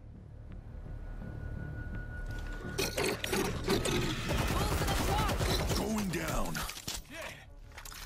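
Elevator descending in World War Z: a quiet hum, then a loud, dense mechanical rattle and grinding clatter for several seconds before it fades, with voices talking faintly beneath.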